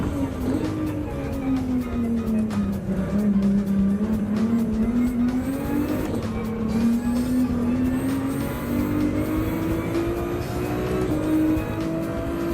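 Ferrari race car engine in Gran Turismo 7 drones steadily and loudly, its pitch dipping and then climbing slowly as it revs near idle before a race, with faint tire and mechanical noise underneath.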